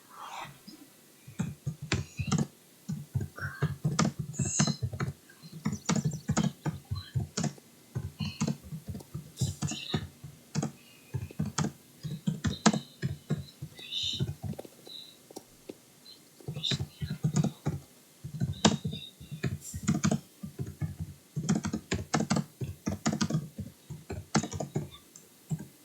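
Typing on a computer keyboard: long, irregular bursts of close key clicks with short pauses between runs, continuing for the whole stretch while a voice occasionally speaks softly underneath.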